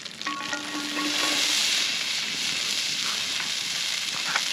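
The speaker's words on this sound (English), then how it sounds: "chuck in the onion" Chopped onion fries in a pan of butter over a fire while a utensil scrapes and stirs through it near the start, all over a loud, continuous close sizzle with no voices.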